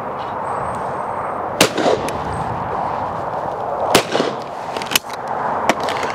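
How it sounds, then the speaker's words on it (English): A shotgun firing Fiocchi 28 gram fiber-wad cartridges at clay targets, several sharp loud reports spaced a second or so apart over an outdoor background hiss. "So let's shoot another stand with it."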